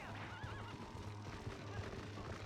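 Ganon's horse in a Zelda video game neighs with a shrill, wavering whinny, then hooves clip-clop over a dense game soundtrack, while a voice talks faintly in the background.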